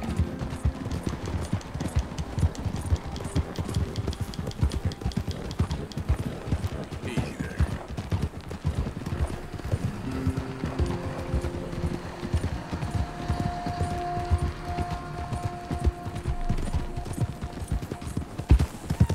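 Horse hooves gallop steadily in the video game Red Dead Redemption 2, a continuous rapid clip-clop rhythm at moderate volume with game ambience and faint tones beneath.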